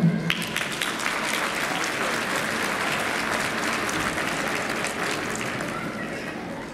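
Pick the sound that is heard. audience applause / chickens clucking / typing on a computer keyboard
audience applause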